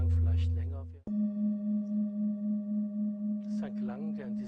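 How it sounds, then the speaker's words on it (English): A singing bowl rings out in a sustained, pure tone with a gentle pulsing waver, starting abruptly after a voice and continuing under quiet speech. "Maybe you will notice that the sounds of the singing bowl change."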